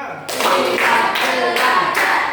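A class of students claps together in a counted clapping routine during a lesson, the sharp group claps landing in quick, close bursts in a small room.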